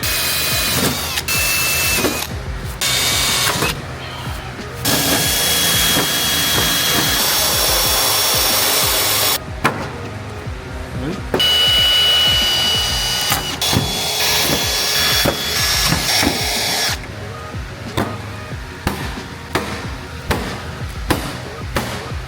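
A Dremel rotary tool cuts through tape on a car body panel with a high, whining buzz in several long bursts separated by short pauses.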